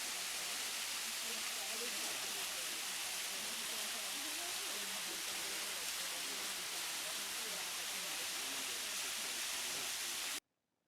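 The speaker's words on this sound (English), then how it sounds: "And then we hit a waterfall, and water I find one of the most peaceful sounds" Steady, broadband rushing of a waterfall in New Zealand, continuous and fairly loud throughout, ending abruptly in silence.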